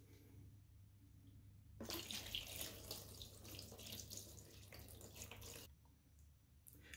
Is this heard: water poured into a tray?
yes